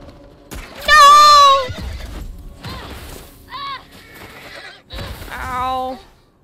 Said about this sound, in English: Shoot the horse!